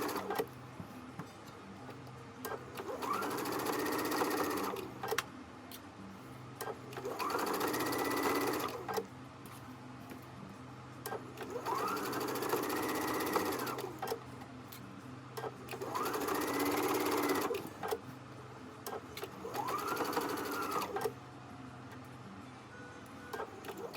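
A sewing machine stitches a knit top in five separate bursts of whirring, each a few seconds long with short pauses between, set against a quiet room.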